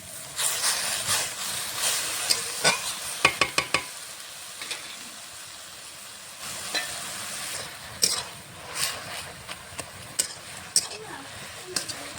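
Jute leaves stir-fried in a pan with salt and turmeric, a steady soft sizzle under repeated scraping and clinking of a spoon against the pan, with a pause in the middle.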